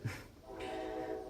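Passing train heard with a steady horn-like tone and low rumble, moderately loud after a brief thump at the start, with no talk.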